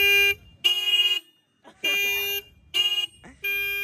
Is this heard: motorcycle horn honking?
yes